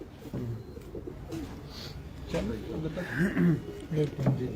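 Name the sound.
pigeons cooing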